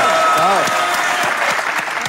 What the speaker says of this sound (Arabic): تصفيقة أكبر من هذا